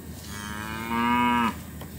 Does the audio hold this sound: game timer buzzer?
no